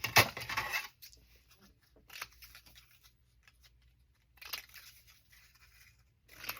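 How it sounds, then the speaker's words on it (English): Tiny scissors snip paper free from a cutting die: one sharp, close crunching snip, then a few quieter scattered clicks and snips separated by near-silent pauses. "I can use my tiny scissors and get that out."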